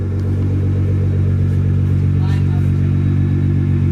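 A Nissan R35 GTR engine idles steadily right after a fuel pump install, with a loud, smooth, constant low rumble recorded up close.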